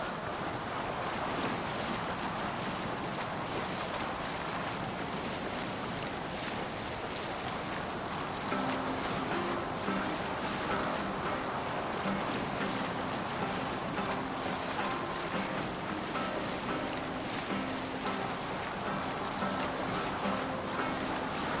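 Longship sailing on open sea in Assassin's Creed Valhalla, a continuous loud wash of waves and rushing wind with a steady hiss, no speech, unbroken throughout.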